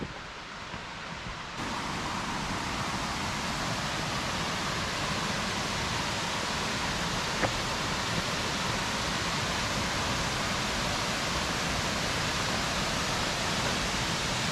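Long Creek Falls, a waterfall on a blue-blaze side trail off the Appalachian Trail in Georgia, roars as a steady, dense broadband rush that swells louder after the first second and holds constant throughout.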